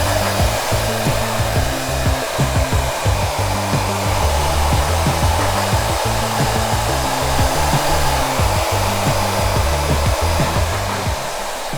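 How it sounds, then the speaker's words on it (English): A hair dryer runs on medium heat at full airflow while hair is dried into a quiff with the fingers, a loud, unbroken roar with faint rhythmic rustling beneath. "I'm drying with my fingers"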